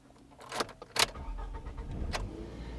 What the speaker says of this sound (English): It also starts the engine.